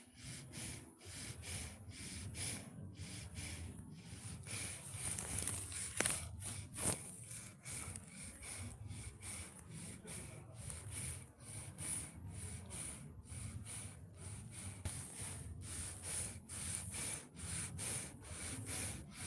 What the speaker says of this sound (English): That's Grizzle's panting. He's dreaming. So he's like heavy breathing.